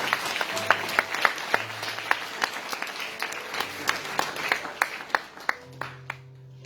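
A church congregation claps steadily in sharp, rhythmic beats, bright and close, for several seconds. A low voice or hum sits underneath before the clapping thins out near the end.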